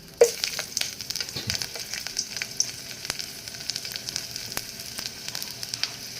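Garlic dropped into hot cooking oil for a Filipino sotanghon dish, giving a steady, close sizzle with crackling pops and occasional stirring clicks, no talking.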